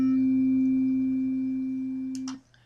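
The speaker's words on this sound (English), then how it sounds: "let's listen to a triangle type wave" A triangle-wave tone holds steady and clean for over two seconds, then cuts off abruptly with a couple of brief clicks at the end.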